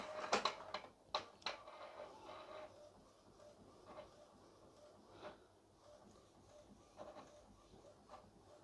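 A printer running a Wi-Fi print job sent from a phone gives faint, intermittent mechanical clicks and ticks, a few sharper taps early on and softer ones spaced through the quiet stretch.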